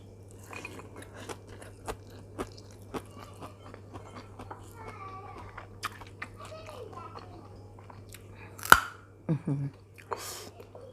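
Crunchy food being chewed close up, with sharp, irregular bites and crunches over a faint steady hum and soft background rustling, plus a brief voice near the end.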